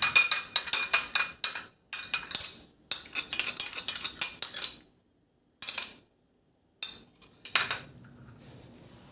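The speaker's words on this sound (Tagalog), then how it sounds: "Maglagay ako ng oyster sauce at saka sesame oil sa bowl at ihalo lang hanggang sa mag-well combine yung ating oyster sauce at saka sesame" Oyster sauce and sesame oil are whisked together in a bowl, producing rapid metallic clinks of a utensil against the bowl in quick bursts separated by short pauses, close and bright, with no talking.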